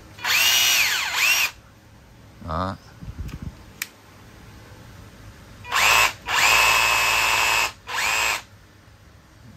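A Japanese-made cordless battery drill driver, model EZ78A1 running on 14V or 18V packs, whirs in several short bursts at full speed with clicking handling sounds between runs, loud and close, and someone speaks briefly.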